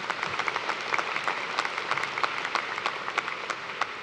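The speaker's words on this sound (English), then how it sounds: "I think that actually deserves a round of applause right there." An audience applauds at a university commencement ceremony, a steady, dense patter of many hands clapping, even in loudness throughout.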